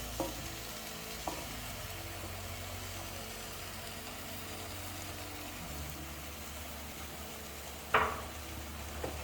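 Mince and potatoes frying and being stirred in a pot on a stove, a low steady sizzle with a couple of sharp utensil knocks against the pot, close by and moderately quiet, with no talk.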